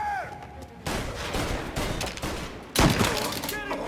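Gunfire erupts in Mafia Definitive Edition, a dense, continuous volley of shots that kicks in abruptly and swells again near the end, loud and close with faint voices underneath.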